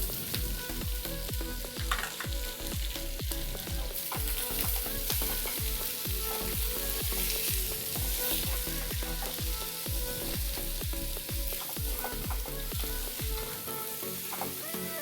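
Onions frying with potatoes in a pan for a Spanish omelette make a loud, constant sizzle broken by a rhythmic series of dull thumps and scrapes from steady stirring, close by and without speech.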